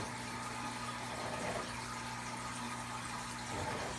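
Aquarium tank water being vacuumed with a gravel siphon during a water change in a cichlid tank, a steady low gurgling flow under a constant electrical hum, faint and unbroken.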